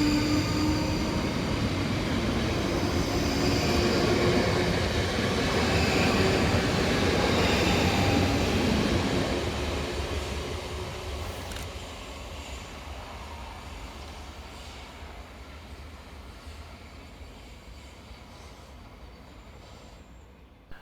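Pair of South Western Railway Class 458 electric units on a Waterloo to Reading service passing through Sunningdale station, a loud rolling rumble and wheel noise that holds for several seconds, then fades steadily into the distance.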